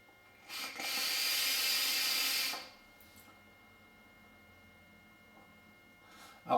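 An Eleaf Melo RT 22 atomizer fires at 50 watts with a 0.30 ohm coil during a single close draw, a steady sizzling hiss of about two seconds, followed by near silence and a brief click.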